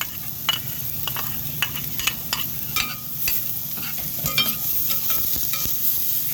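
Onions stirred into a hot sauté pan while cooking a crab dish, a steady close sizzle with frequent spatula scrapes and taps against the pan, fairly loud and continuous, no voices.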